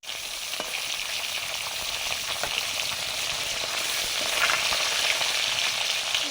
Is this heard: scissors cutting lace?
no